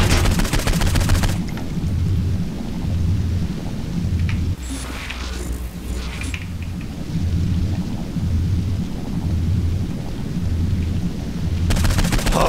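Saints Row IV gunfire with flaming bullets: a dense, continuous roar of rapid shots and rumbling blasts, loud and unbroken, with brief crackling bursts near the middle and sharper noise at the start and end.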